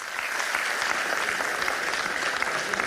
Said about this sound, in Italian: fate un applauso a Manuela